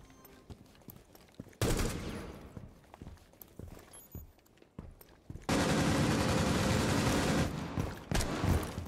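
Rapid automatic gunfire in the video game Rainbow Six Siege, two long sustained bursts separated by scattered footsteps and lone shots, loud and close with no talking.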